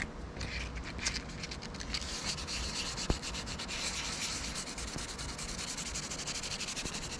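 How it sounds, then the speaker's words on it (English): Steady back-and-forth sanding of an old canoe with 600-grit sandpaper, a continuous close rasping hiss with a single sharp tick partway through. "So I am sanding with 600 grit paper across one side"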